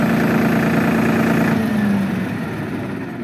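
A tractor engine idles steadily and loudly nearby, its low running tone holding and then sagging and fading as the engine is shut off, with no voices over it.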